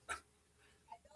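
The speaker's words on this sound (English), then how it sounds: "That dog sounds like a squeeze toy." A Yorkie dog gives a faint, high, squeaky whimper, one short burst near the start, followed by quieter soft sounds against a low background.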